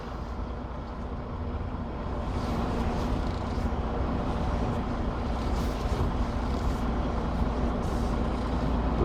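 Heavy truck engine rumbling steadily and loudly while backing a trailer into place, a continuous low drone with no pauses.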